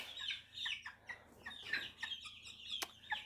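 A flock of backyard chickens clucking nearby, with repeated short clucks and squawks coming in quick bursts, alone with no talk.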